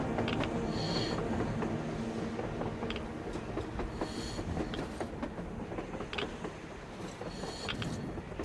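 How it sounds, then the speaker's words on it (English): A train rolls along on the surface in the post-apocalyptic game Metro Exodus, a steady loud rumble with rhythmic clickety-clack of wheels on rails and faint metallic squeals throughout, with no speech over it. "A damn train on the surface!"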